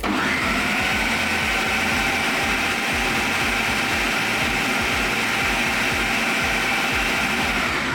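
A steady, loud electric mixer whirs continuously as it mixes cookie dough with half of a whisked egg, a constant motor drone with a low grinding rumble and no pauses.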